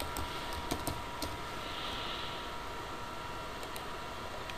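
Steady typing on a computer keyboard while entering a CAD command, with light key clicks over a constant hiss of background noise.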